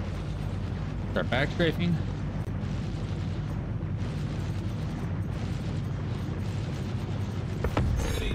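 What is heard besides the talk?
ship cannons firing and explosions in video game Star Citizen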